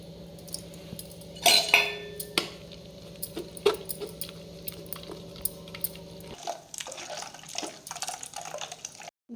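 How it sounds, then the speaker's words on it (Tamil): Ground coconut pressed through a kitchen strainer to extract coconut milk for sweet dumplings gives quiet scattered drips and trickles with light metallic clinks, close and faint, before the sound thins out toward the end. "தேங்காய் வந்து அரைச்சி வச்சு இப்போ வந்து நம்ம வந்து ஸ்ட்ரைனரில் சேர்த்து நல்லா வடிகட்டி பால் எடுத்துக்கலாம்."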